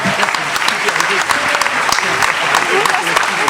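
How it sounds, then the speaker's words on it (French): Audience at a French launch conference clapping together, a dense steady round of applause close by for several seconds. "On peut s'applaudir."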